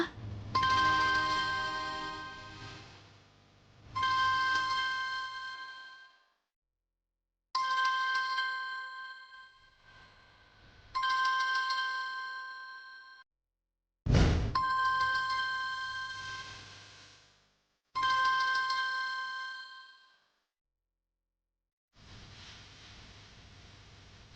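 A phone ringtone rings during a call, in repeated bursts of roughly four seconds separated by short silences, loud and alone, with a sharp click partway through.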